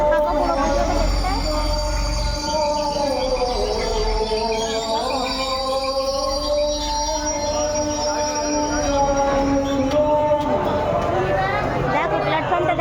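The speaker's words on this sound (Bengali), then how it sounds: "স্টেশনে চলে এসেছি, ট্রেনে চাপবো।" A train rolls through a railway station with a steady loud rumble and squealing wheels, joined by a sustained high-pitched horn or whistle tone, while people chatter faintly in the background.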